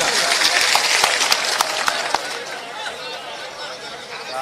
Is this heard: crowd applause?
yes